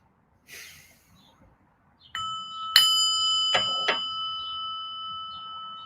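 A meditation bell is struck several times at a calm gathering before a period of stillness, each ring bright and sustained with long overlapping tones that hang and slowly decay, preceded by a faint breath-like rustle.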